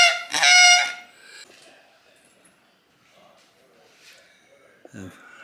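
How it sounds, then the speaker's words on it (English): Giant duck call blown at the Buck Commander and Duck Dynasty headquarters in West Monroe, Louisiana, producing one loud, nasal honking quack near the start, followed by quiet room noise and a short thump at the end. "And here's a giant duck call."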